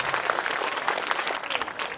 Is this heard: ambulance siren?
no